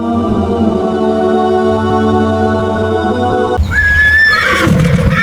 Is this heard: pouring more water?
no